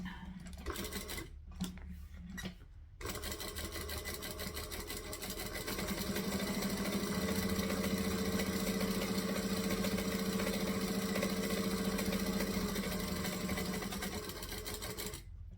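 A sewing machine stitches vinyl piping for bag handles, a steady close mechanical whirring hum that starts after a few short bursts and then runs continuously for about ten seconds before easing off.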